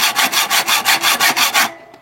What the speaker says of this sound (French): la scie, je fais juste attention de partir bien droit en fait